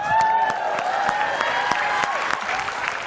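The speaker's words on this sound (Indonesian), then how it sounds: "Oke, tepuk tangan sekali lagi buat Oka Rosgana." An audience at a yoyo performance claps steadily and loudly, a dense wash of applause that carries without pause from start to finish.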